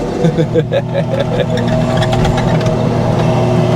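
An old-school Toyota Landcruiser FJ45 engine runs close by with a throaty, steady burble while people talk over it.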